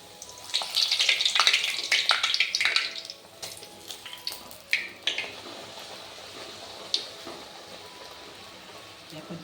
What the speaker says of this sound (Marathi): तेलसुद्धा आपलं छान तापलेलं आहे तर तेलात आपण आता भटुरा सोडूया